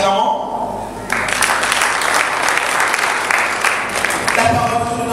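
A church congregation at a worship service bursts into loud, sustained applause after a short pause, the clapping filling the room with voices mixed in beneath it.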